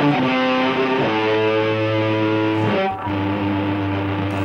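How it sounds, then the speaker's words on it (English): A heavily distorted electric guitar holds sustained notes to close a solo, then the amp keeps hissing and humming with noise after the playing stops, loud and alone. "If a song were to end with a guitar solo, it might sound like this."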